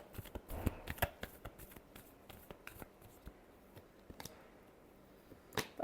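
Tarot cards are shuffled by hand in quiet, close, irregular riffles and soft taps, with a sharper burst of card noise at the end.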